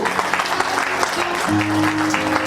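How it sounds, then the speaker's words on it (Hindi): An audience at an International Women's Day event held by the Kalyani social organisation on 8 March 2022 claps steadily and loudly, the dense applause running throughout beneath sustained tonal sounds. "ताली बजाना"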